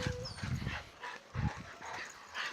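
A guide dog for visually impaired people barks in a few short, close bursts with whimpers, while people talk and handle dogs outdoors nearby.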